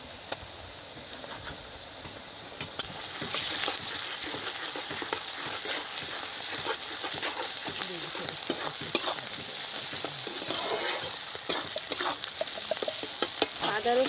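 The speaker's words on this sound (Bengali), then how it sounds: "আদা রসুন পেঁয়াজ একসাথে একটু ভেজে নিলাম" Ginger, garlic and onion frying together in a pan as a village-style fish curry is made, a steady sizzle starting after a quiet opening and carrying on with scattered stirring scrapes and pops close up.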